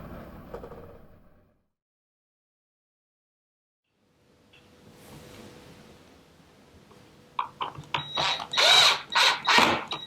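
A drill drives pocket hole screws into wooden pen tray blanks, with a faint whir early on, a quiet gap, then a closer burst of short ratcheting, whining pulses.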